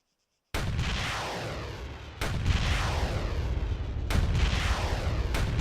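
Warthog vehicle weapon firing in the Halo mod Eridanus Insurrection: three loud, sustained bursts of rapid automatic gunfire follow an abrupt start, each roaring on with almost no gap between them.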